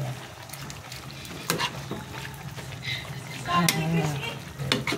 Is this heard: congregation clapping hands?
no